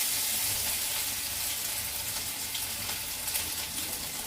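A soft, steady sizzle of whole spices and ginger frying in oil, continuous and fairly quiet, with no voices.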